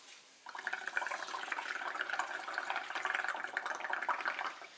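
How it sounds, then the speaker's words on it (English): Continuous soft bubbling and gurgling as air is blown through a straw into a bowl of dish soap bubble mixture, fairly faint and close, lasting several seconds before stopping. "let's fill our bowl using our straw with some bubbles"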